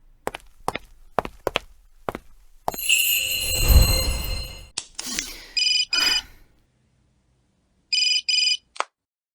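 A phone rings with an incoming call: electronic ringtone bursts repeat in short pairs after footsteps and a loud rustling passage, close and clear with no talking.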